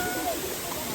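Bomod-ok Falls in Sagada, Mountain Province, roars as a steady, dense rush of falling water, close and continuous, with faint voices mixed in.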